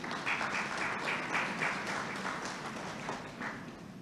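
An audience at a national independence investiture ceremony applauds in a steady, moderately loud wash of clapping that continues throughout without any speech over it.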